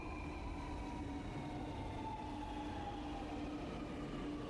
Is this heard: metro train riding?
yes